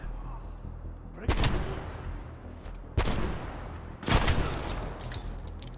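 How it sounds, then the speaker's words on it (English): Three loud, widely spaced shots from the Redeemer gun in Call of Duty Black Ops Cold War, each a sharp crack followed by a long echoing decay over low background rumble. "Well, that's a loud gun."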